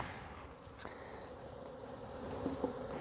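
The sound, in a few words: honeybees buzzing around combined hives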